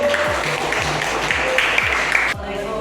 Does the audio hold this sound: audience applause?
yes